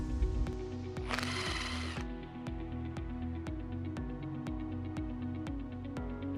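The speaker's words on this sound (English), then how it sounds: "Remove the bolts on the handle with a 10mm socket." Metallic ratcheting from a 10mm socket wrench backing out handle bolts on a Tsurumi HS series pump, a steady run of evenly spaced clicks with one brief burst of louder rattling near the start, close and alone.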